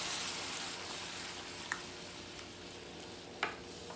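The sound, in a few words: chicken sizzling in a pan being stirred around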